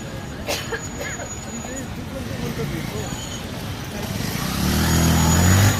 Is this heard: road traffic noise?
yes